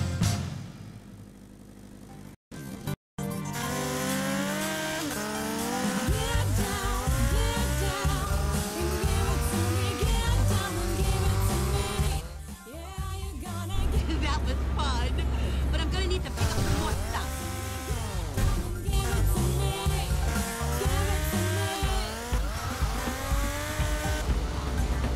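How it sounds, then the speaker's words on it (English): A car engine runs and revs in GTA Liberty City Stories on PS2, loud and continuous with shifting pitch, mixed with game music and effects as voices talk over it. "Engine running."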